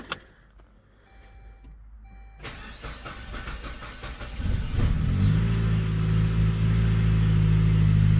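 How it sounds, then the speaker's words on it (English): After a spark plug replacement, a Saab 9-3 engine is started: keys jingle and the starter cranks briefly, then the engine catches and settles into a loud, steady idle rumble up close. "Let's try to start the car."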